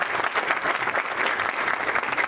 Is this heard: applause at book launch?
yes